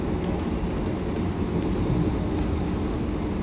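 A steady, loud rumble of the Vande Bharat Express moving along the rails at about 107 km/h between Bangalore and Chennai fills the clip, dense and continuous, with faint rattling on top.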